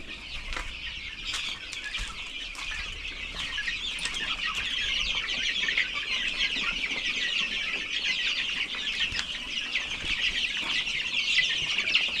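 A flock of chickens clucking and scratching with a busy, steady rustle and fluttering wings, continuous and fairly close, no voices.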